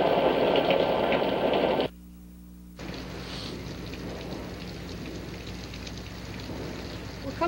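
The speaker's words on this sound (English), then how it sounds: "Buddy and Jim stay out in the rain" Steady rain pours down in a hissing, dense wash of drops on surfaces outdoors. The downpour cuts out briefly for about a second, then resumes just as thickly.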